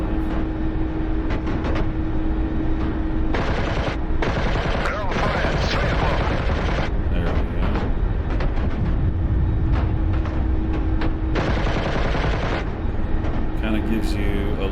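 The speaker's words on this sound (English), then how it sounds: "So we can try to shoot these guys with our track IR." A helicopter door gun fires in the DCS combat flight simulator as repeated heavy automatic bursts with short gaps, loud over a constant engine drone, while someone talks over the action.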